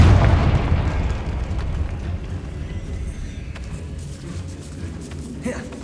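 Confringo spell explosion in Hogwarts Legacy, a heavy low boom at the start that decays into a long rumbling, crackling tail, loud and close before fading out.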